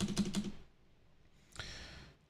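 Quiet computer keyboard typing on a sideways-placed keyboard, a quick burst of several close clicks followed by a pause and a single softer keystroke cluster.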